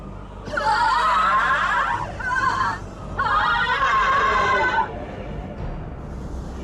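Screaming voices in a Final Fantasy XIV Endwalker cutscene come in two long, loud bursts around a brief gap, with strained, harmonic cries over a rumbling game soundtrack.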